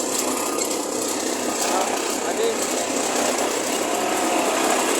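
A mesin molen mortar mixer runs at a brick-making site, mixing soil for bricks, with a steady, dense mechanical roar and rattle that never lets up, close and loud while someone talks over it.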